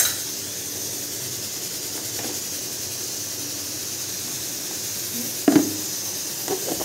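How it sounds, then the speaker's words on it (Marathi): Cumin, mustard seeds and chopped onion sizzle in hot oil, a soft, steady, close hiss that stays even throughout, broken by a few small crackles near the end. "जिरी मोहरी टाकली, कांदा टाकला, तेलामध्ये"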